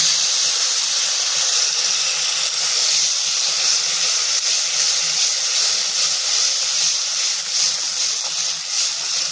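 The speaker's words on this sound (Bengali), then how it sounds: "এই বেটে রাখা পালং শাক বাটাটা দিয়ে দেব। এটা দিয়েও আমি ভালো করে কষিয়ে নেব।" Spinach paste sizzles steadily while frying in a pan, a continuous loud hiss filling the whole stretch with no talking over it.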